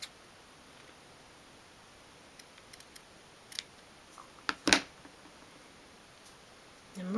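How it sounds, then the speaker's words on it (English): Small scissors trimming overhanging paper from a 1/12 scale miniature food tin, a few quiet sparse snips and clicks with a sharper cluster of cuts near the middle in a quiet room. "I'm just going to trim a little bit of that overhanging paper off."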